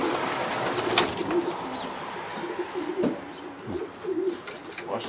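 Soft pigeon cooing repeats in low, rolling phrases in a pigeon loft amid a busy background of chirps and faint rustling.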